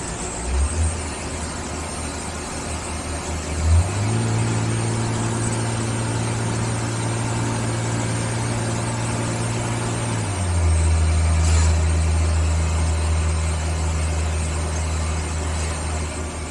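A car engine with an exhaust leak, on the road to Tenes near the River Kramis in Algeria, runs at a steady idle, then rises to a higher droning pitch for several seconds before settling back down to a low, throbbing rumble.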